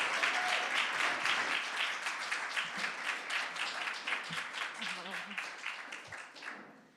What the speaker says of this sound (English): So help me to welcome Sara with a warm applause.